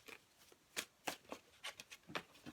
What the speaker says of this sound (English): let me just shuffle them again